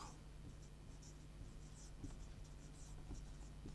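Pen or chalk writing out a math answer during a Class VIII mathematics lesson, a faint steady scratching with light strokes over a low background hum, no talk.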